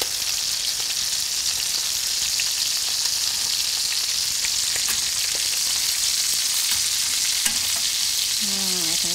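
Rabbit pieces fry in bacon fat in a pan with a loud, continuous crackling sizzle and occasional stirring, close up with no talk.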